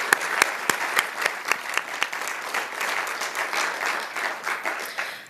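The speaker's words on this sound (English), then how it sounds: "Let's give them a round of applause." Sustained round of applause from a conference audience at an awards presentation, dense steady clapping from many hands with sharper individual claps standing out, fairly close and filling the whole stretch with no talk over it.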